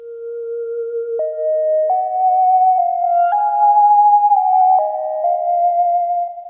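A soft, pure flute-like FM synth melody glides through a few sustained notes, clean and breathy-free, moderately loud with no voices.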